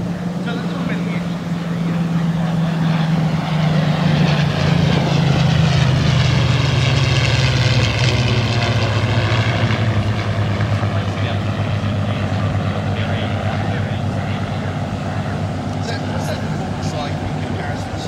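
A Spitfire and a P-51D Mustang, both V12 piston-engined World War II fighters, fly past at an airshow. Their loud propeller drone falls in pitch as they pass, then becomes a sustained distant rumble with a voice talking over it.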